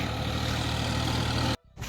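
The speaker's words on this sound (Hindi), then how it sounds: "यहाँ पर वाहनों की इतनी ज़्यादा भीड़ है" Trucks and other vehicles crowd a muddy road, heavy engines droning and idling low and steady close by, then the sound cuts off abruptly near the end before returning.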